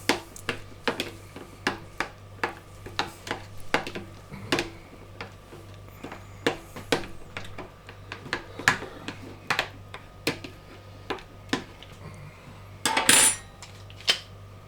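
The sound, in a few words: stirring dill into sauce in a pan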